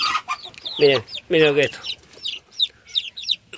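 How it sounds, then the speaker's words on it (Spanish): Newly hatched chicks peep in quick, high, bright chirps close by, repeating throughout while a person speaks briefly over them. "Miren lo que es este pollito, es una belleza."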